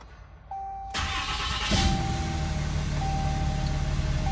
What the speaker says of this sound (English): 5-inch intake, and let's fire her up.